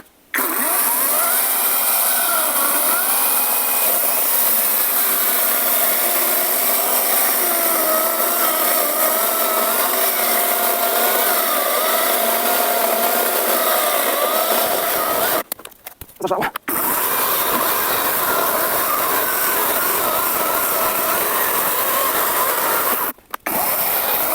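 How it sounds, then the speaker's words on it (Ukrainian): A Grosser GCS 160 cordless saw cuts red oak with a loud, steady whine, a voice speaking over it, the motor briefly cutting out twice before running on. "І приходиться вам іще зробити таку конструкцію і ще напиляти червоного дуба."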